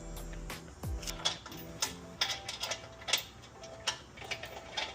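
A torque wrench tightens a 17 mm bolt on a license plate bracket on a 2025-2026 Mazda 3 GT Turbo, giving a quiet run of sharp, evenly spaced ratchet clicks with a low thump near the start.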